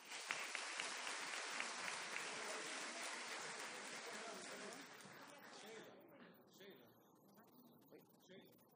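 An audience claps for honorees on stage at an intellectual property and innovation event, a broad wash of applause that holds steady, then thins and fades toward the end.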